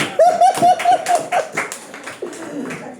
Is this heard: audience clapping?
yes